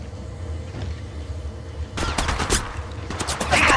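Bursts of rapid gunfire from an attacking squad in the mobile shooter Apex Legends Mobile erupt midway over a low rumbling game backdrop, with sharp repeated shots growing denser toward the end.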